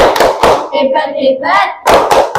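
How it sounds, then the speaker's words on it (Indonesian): Loud, close group hand clapping in rhythmic bursts, with a short chanted praise cheer in the middle, as in a classroom. "Beri tepuk hebat untuk Fani karena sudah bisa menjawab dengan tepat."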